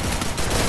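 Gunfire in a competitive 4x4 online shooter match crackles in a short, loud, dense burst of rapid shots filling the whole moment.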